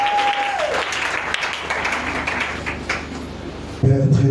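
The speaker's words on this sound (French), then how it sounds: "Une dernière offrande d'acclamation avant la prédication." Church congregation applauding and cheering before a sermon, a steady wash of clapping with a voice briefly rising over it, then fading as organ-like tones and talk come in at the end.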